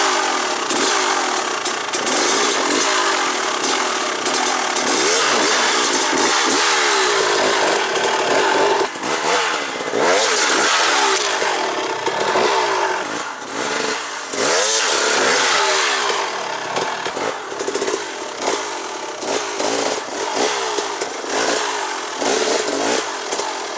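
An enduro motorcycle's engine snarls and revs hard in repeated bursts while the rider crosses logs off-road; the rasping note surges and dips close by and loud for the whole stretch, with no talking.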